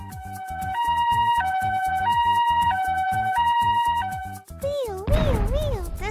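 An ambulance siren wails loudly and close, alternating between two tones in a steady hi-lo pattern before shifting into a rising and falling whoop, with no voices.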